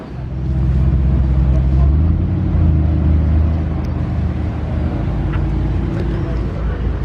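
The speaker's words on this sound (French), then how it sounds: "Je crois que c'est la première Porsche Taycan que je vous filme." A Porsche Taycan electric sedan rolls past at a car meet, a loud steady low rumble and road roar swelling early and holding before easing slightly, with voices faintly underneath.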